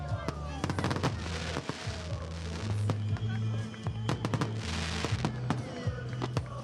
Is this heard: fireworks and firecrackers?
yes